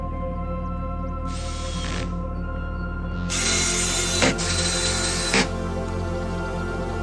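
Screws being driven into the back cover of a Ryobi electric riding lawn mower, two bursts of a power driver whirring about a second and a few seconds long, with a couple of sharp clicks, over a steady low hum.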